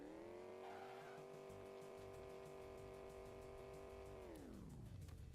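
A car in the Envirobear 2000 video game drives with a steady, buzzy synthetic engine drone that drops sharply in pitch near the end, with no talking over it.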